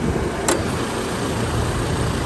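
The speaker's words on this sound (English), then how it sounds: "I know the engine is running at the moment" The engine of a 2018 Toyota Landcruiser Prado GX 4x4 wagon idles with an open bonnet, giving a steady, even broadband hum with a single brief click near the start and no voices.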